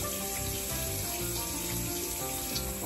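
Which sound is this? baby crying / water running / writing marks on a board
water running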